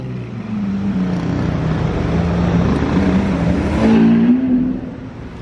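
A Formula 1 race car engine holds a loud, steady drone that climbs in pitch toward the end, with no voices over it.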